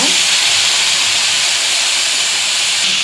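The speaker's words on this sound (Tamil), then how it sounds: "இப்போ தக்காளியை போட்டு நல்லா வதக்கிடலாங்க" Chopped tomatoes hiss and sizzle as they fry with onions in a pan for a drumstick masala, a loud, continuous bright frying noise with no pauses.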